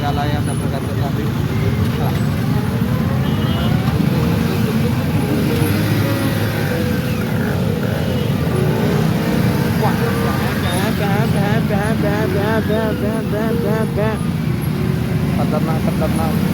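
Busy road traffic in Pune's Camp area, with a steady rumble of passing cars, including a Land Rover, and buses, plus a few horn blasts near the end, while people talk over it throughout.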